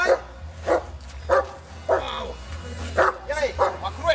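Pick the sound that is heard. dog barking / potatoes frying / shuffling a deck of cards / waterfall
dog barking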